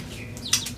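Small birds on a rooftop aviary give a few short, high chirps and tweets, faint and brief, against a quiet background hum.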